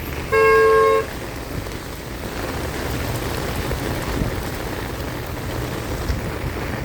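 Heavy rain pours over a road as traffic passes, opening with one loud car horn blast before settling into a constant dense hiss of rain and tire spray with rolling vehicle noise.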